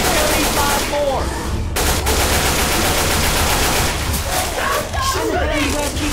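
Gunfire in the Left 4 Dead 2 video game: rapid bursts of automatic shooting rattle on almost continuously, loud and close, with players talking over the shots.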